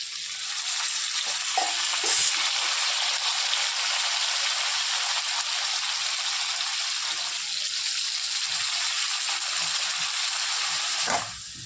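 Soaked spice paste frying in a pan after fish has been fried, a loud continuous hissing sizzle that runs steadily throughout with a few faint scrapes of stirring.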